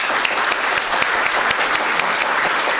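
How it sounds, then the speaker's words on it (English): A meetup audience at an IoT NY tech event gives a round of applause, a loud, dense patter of many hands clapping steadily without a break and without talk over it. "So let's give her another round of applause."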